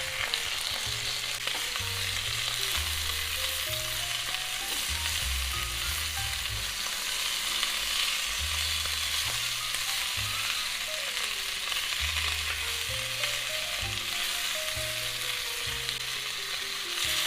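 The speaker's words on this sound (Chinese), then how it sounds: "把洗好的牛肉放在锅中煸炒，炒干里面的水分。" Beef sears in a pot with a constant, dense sizzle, the crackle of moisture cooking off heard alone over soft background music.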